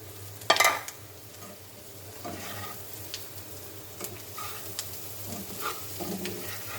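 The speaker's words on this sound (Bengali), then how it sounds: "এখন চিংড়ি মাছটি দিয়ে দিলাম।" Prawns hitting a pan of frying onions, a sharp burst of sizzle at the start settling into a steady crackle with light stirring scrapes throughout, no voices.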